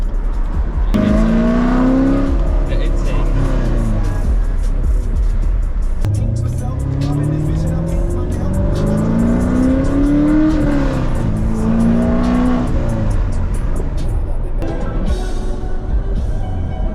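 A loud Corvette engine with a manual transmission revs repeatedly, pitch rising and falling through the gears, close and dominant with a person talking over it.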